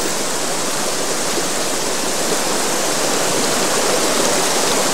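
A wild mountain river surges through a rocky gorge near an old monastery, its roaring torrent a loud, steady wall of rushing water that fills everything without a break.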